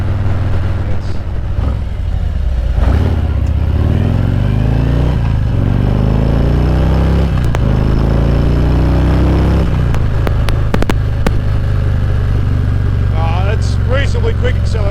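A Norton motorcycle accelerates hard toward 100, its engine rising in pitch through several gear changes, loud and close from a helmet-mounted GoPro with wind rush and crackling, popping distortion throughout.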